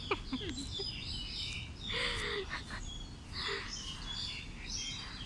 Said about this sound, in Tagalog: Daming ibon dito ang yung maliliit. Masasaya yung maliliit na ibon.